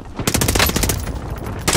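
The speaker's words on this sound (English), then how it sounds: "They're shooting at me." Rapid automatic gunfire crackles through a Call of Duty: Modern Warfare match, bursts of close, loud shots tumbling over one another almost without pause, with a fresh burst flaring near the end.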